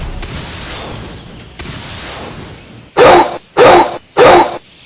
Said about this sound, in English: that Shaggy Dog's bite is just as bad as his bark